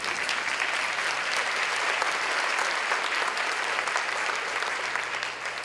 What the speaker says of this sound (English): I thank you for that applause